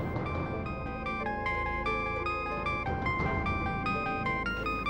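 A mobile phone rings with an incoming call in an Indonesian TV drama scene, its bright melodic ringtone stepping through repeating electronic notes, loud and steady for about five seconds with no voices over it.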